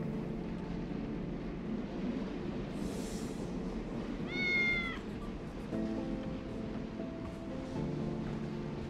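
In the Tales of the Neon Sea video game, a cat lets out one short meow midway through, set against a steady low ambient game background with a soft hiss and faint tonal hum.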